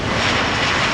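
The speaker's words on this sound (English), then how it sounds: "777-200ER arriving from Las Vegas. Let's look and listen." A Boeing 777-200ER jet arriving at Amsterdam Schiphol Airport, its engines producing a loud, steady broadband roar throughout the short stretch with no voices.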